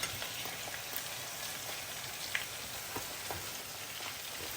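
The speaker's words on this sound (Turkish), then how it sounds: "Somon balığını çok kızartmayacaksınız normalde." A salmon fillet fries in butter in a pan, giving a continuous close sizzle with small crackles and occasional pops, and no voices.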